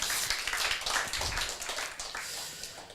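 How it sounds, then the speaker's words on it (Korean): Audience applause in a church during a sermon on the Ten Commandments: a dense, steady wash of many hands clapping that holds for about three seconds and tapers slightly, with no talking over it. "박수 한번 더 주실까요? 박수."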